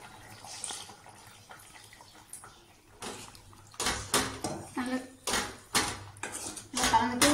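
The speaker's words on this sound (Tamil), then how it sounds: "நம்ம புளித்தண்ணியும் சேர்த்துக்கலாம்." Tamarind water is poured into a pot of bitter gourd curry in a home kitchen, with splashing pours and clinks of a vessel in bursts, loudest in the second half, after a quieter stretch at the start.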